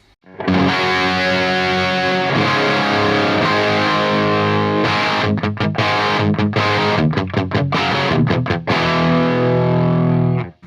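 A loud, sustained distorted electric guitar chord rings through a Marshall amp, then choppy strummed bursts with brief gaps before it rings out again.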